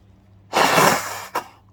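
A single forceful nose blow clearing out the sinuses: a loud burst of blowing that trails off, followed by a short sharp snort.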